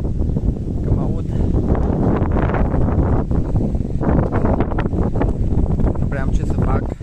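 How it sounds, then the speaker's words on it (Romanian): Strong wind buffets the microphone outdoors at a cemetery, a loud continuous roar and rumble with gusting rustle lasting throughout, with no quiet gaps. "ce tare bate vântul"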